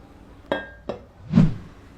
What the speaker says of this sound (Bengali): প্যানটা চুলায় বসিয়ে দিলাম।